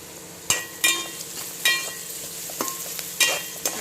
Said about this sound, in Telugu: మంచిగా ఒకసారి మొత్తం కలిసేటట్టు తిప్పుకొని మగ్గనివ్వండి.